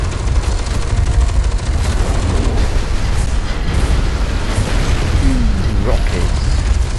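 Rocket explosions in the F.E.A.R. 2 video game rumble as a dense, continuous wall of low booms and blasts, loud and close throughout, with no pauses between them.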